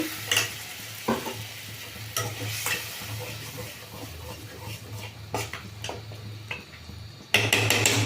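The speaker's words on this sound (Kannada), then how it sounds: "ಈಗ ಮಸಾಲೆ ಎಲ್ಲ ಫ್ರೈ ಆಗಿ ಎಣ್ಣೆ ಬಿಟ್ಕೊಳ್ತಾ ಬರ್ತಾ ಇದೆ." A spoon scrapes and clatters against a pan at intervals over a soft, steady sizzle of masala for egg chilli masala frying in oil, close up, with no talking.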